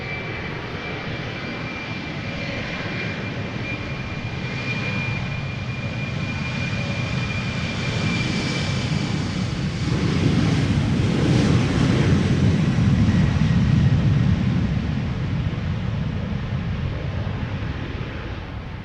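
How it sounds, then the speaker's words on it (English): An Embraer 190 jet departs Amsterdam Schiphol for Hamburg, a loud close engine roar with a steady whine on top, building to a peak midway and then easing slightly, with no voices. "Embraer 175, no, Embraer 190 up next."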